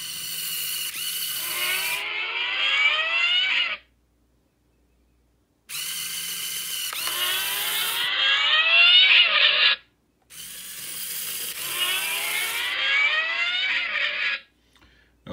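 A small motorized LEGO Technic backhoe loader motor whirs in three sustained bursts of rising, ratcheting gear noise, each several seconds long and separated by brief silences, heard close up with no talking.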